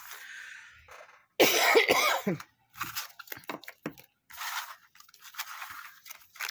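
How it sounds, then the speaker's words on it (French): A burst of coughing up close, followed by a few shorter throat-clearing coughs and quiet rustling. "Excusez-moi pour cette toux."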